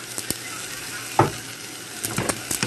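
Quinoa and pasta sauté with a little oil in a pot, giving a soft continuous sizzle broken by a few sharp scrapes and stirring clicks near the microphone.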